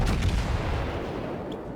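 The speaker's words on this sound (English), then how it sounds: "Fire my rear turret at that Kiev that's chasing me" A battleship's rear turret fires in World of Warships, a single heavy booming blast with a rumbling low tail that fades over about two seconds, loud and close.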